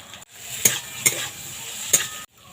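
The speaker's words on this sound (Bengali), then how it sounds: "আলুটা এইভাবে ভেজে নেব" Spiced potato filling for vegetarian singara, with salt, turmeric, Kashmiri chilli powder, crushed ginger and green chilli, sizzles steadily in a pan. Three distinct clinks of the stirring utensil sound close against the sizzle.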